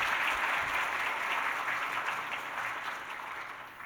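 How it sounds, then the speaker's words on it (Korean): A church congregation applauds to welcome a visiting missionary during a Sunday service, a steady wash of many hands clapping that fades slowly toward the end. "우리 박수로 환영하겠습니다."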